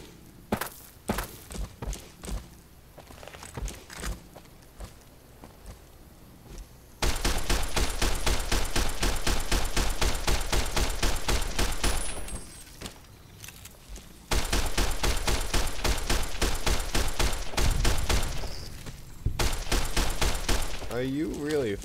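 Rapid bursts of gunfire in the video game Fallout New Vegas, dense and loud, coming in several long stretches with short gaps, after a quieter opening with scattered shots and faint talk.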